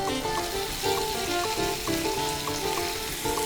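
Tandoori chicken sizzles on a grill as it is turned, a loud, dense, continuous frying hiss with a faint steady tonal hum underneath.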